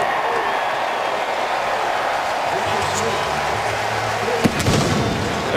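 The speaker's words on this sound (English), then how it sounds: "There go the Cannons." Cannons fire at a Tampa Bay Buccaneers home stadium after a field goal in a 2014 NFL game against the Packers, a sharp boom rising from steady crowd noise, with a commentator talking throughout.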